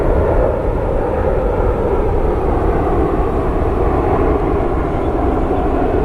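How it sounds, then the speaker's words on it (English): A United Boeing 737 MAX airliner inbound from LAX to Washington Dulles gives a steady, loud, broadband engine roar that holds at an even level for the whole stretch. "United 2438, it's a 737 MAX inbound from LAX."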